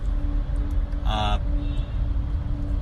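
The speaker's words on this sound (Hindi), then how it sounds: "इस समय आप ट्रैफिक की आवाज सुन रहे होंगे।" Traffic rumbles around a car being driven, a low steady drone with a brief higher mechanical whine partway through, mostly under a voice.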